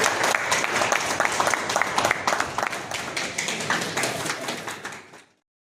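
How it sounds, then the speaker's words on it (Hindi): Loud, dense applause from a seated audience at a hospital seminar held in a private hotel, steady rapid clapping for about five seconds before stopping abruptly. "जोरदार तालियां"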